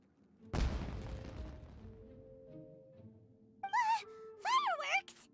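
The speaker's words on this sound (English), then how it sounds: "It sounded like fireworks." Fireworks exploding in the Genshin Impact video game, a loud burst of booming crackle fading into a ringing tail, followed by voiced character exclamations.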